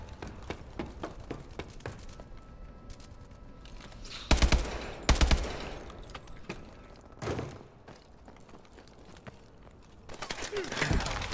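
Call of Duty gunfire with loud shotgun blasts, a few heavy booming shots in the middle among steady crackling distant firing and scattered clicks throughout.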